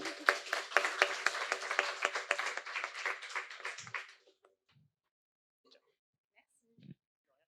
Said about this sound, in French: On l'applaudit, c'est la première.